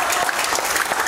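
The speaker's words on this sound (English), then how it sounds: "Give Him one more big hand clap." A church congregation claps in a dense, continuous burst of applause, close and fairly loud, with faint voices mixed in.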